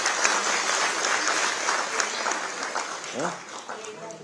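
Applause from an audience at a Uttarakhand culture event, dense clapping that continues for a few seconds and then thins out as a voice starts speaking.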